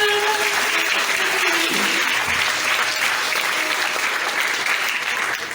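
A church congregation at a healing and deliverance seminar claps and cheers loudly for the Lord, a dense, continuous wall of applause filling the hall for several seconds.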